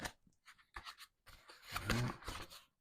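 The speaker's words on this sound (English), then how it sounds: "let's cut this open" A blade slicing open a cardboard package holding a new comic book, heard as quiet scratchy cutting strokes in short bursts, building to a denser, louder scrape near the end.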